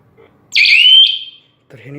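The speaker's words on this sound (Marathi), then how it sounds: "ह्याने लॉंग बीप केलेलं आहे" GSM-based home security burglar alarm giving one long, loud electronic beep lasting under a second, close by, followed by a short stretch of talk.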